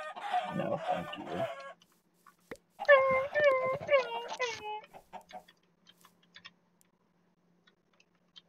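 Minecraft chicken clucks in two bursts of rapid, warbling squawks, close and loud, followed by quieter scattered clicks and taps.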